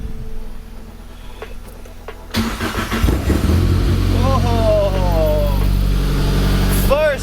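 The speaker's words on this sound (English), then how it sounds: "Beautiful, and it's holding idle fine." A Datsun 510 engine cranks and fires after an overhaul, then settles into a steady idle, loud and close, with brief revving and a person speaking over it.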